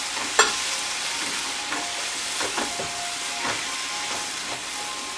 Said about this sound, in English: why are you frying sour cream?